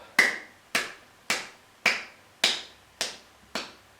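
Single sharp hand claps during a yoga exercise, seven of them spaced evenly about half a second apart, close and crisp against a quiet background.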